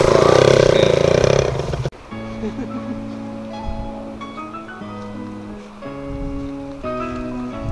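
A motorcycle idles and then is throttled gently as the clutch is released, a steady low engine hum with a small rise in revs, following a loud rushing burst at the start.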